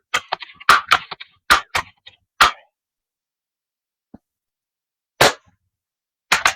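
A Crosman Legacy 1000 air rifle fires: a series of sharp, dry cracks, some clustered close together and others spaced apart, each short and crisp against near silence.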